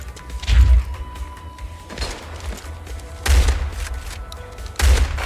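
Shotgun blasts from the video game Pixel Gun 2: three heavy, booming shots spaced a couple of seconds apart, with a low thud and a burst of noise in each, over steady game background sound.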